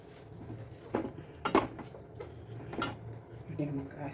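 Spoon scraping and clinking against a pan while a potato mixture is stirred, a few distinct metallic knocks and scrapes over low background hum, with faint voices nearby.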